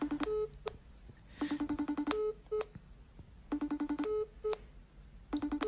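A phone's ring pattern keeps repeating: clusters of rapid electronic beeps in regular bursts with short gaps between them, clear and close and with no voices.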